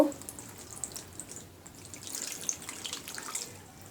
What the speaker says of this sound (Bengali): পর্যাপ্ত পরিমাণ পানি দিয়ে দেব